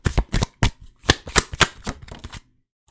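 Tarot cards shuffled by hand, a quick series of close, crisp riffling bursts and flaps over about two and a half seconds, then silence.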